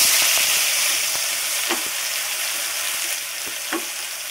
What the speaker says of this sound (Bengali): এটা ভালো করে নাড়াচাড়া করে ভাজা ভাজা করে নিতে হবে।